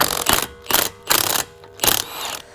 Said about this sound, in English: We'll take our Milwaukee Fuel M18 impact gun